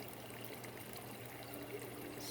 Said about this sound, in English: Splashing a bit much over here. See all the splash?